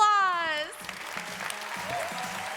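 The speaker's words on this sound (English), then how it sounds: "let's have one more huge round of applause" Audience applause at a MagicCon Amsterdam cosplay contest, a steady broad wash of clapping from a crowd that takes over after a brief sustained tone and carries on at an even level.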